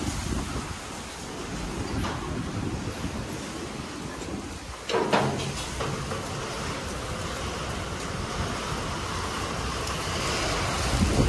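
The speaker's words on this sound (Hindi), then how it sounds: "इतनी प्यारी बारिश आ रही चारों ओर से" Rain falls steadily outdoors all around, a dense, continuous hiss and patter close to the microphone with a brief louder gust or splash midway.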